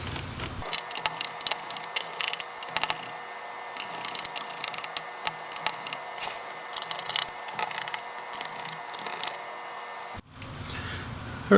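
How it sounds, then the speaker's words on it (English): A small screwdriver works out the bottom case screws of an Alienware 13 R3 laptop, making faint intermittent clicks, ticks and light scrapes close by, with a quiet whirring hum underneath and no speech. "let's remove all of the bottom case chassis screws"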